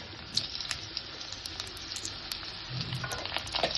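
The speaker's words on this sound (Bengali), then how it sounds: "আলুটা দিয়ে একটু ভেজে নেব।" Potatoes frying in a pan make a soft, fairly faint sizzle dotted with scattered small pops and crackles that grow slightly busier toward the end.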